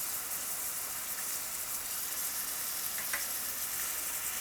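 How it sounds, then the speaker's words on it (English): Onion and garlic sizzle in a pan for vegan Mexican black beans, a close, even frying hiss with a couple of light scraping taps as they are stirred, all brief and without any voices. "And stir everything around just a little bit."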